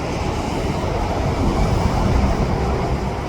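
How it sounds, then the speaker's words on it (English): A westbound SkyTrain passes in the Burnaby/New Westminster area, producing a steady, broad rumble and rolling hiss that holds evenly for several seconds. "There's another westbound SkyTrain."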